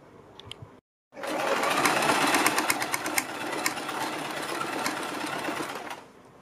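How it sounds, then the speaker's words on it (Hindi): Sewing machine stitching the neckline of a kurti over buckram, starting after a brief silence and running in a loud, steady, close-up whir for about five seconds. "हम ये जो सिलाई लगा रहे हैं"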